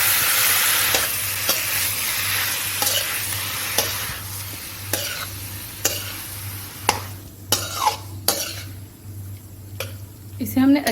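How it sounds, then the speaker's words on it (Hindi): Roasted dry fruits and petha being stirred together in a pan for pumpkin halwa, a soft continuous sizzle under a low hum with rhythmic scraping strokes that grow sharper and more distinct toward the end. "अब हम इसे अच्छी तरह से मिक्स करेंगे।"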